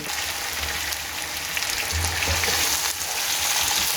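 Fried fish pieces sizzle steadily in masala with green chillies for fish pulao, a dense continuous frying hiss with faint low stirring bumps, close and fairly loud throughout.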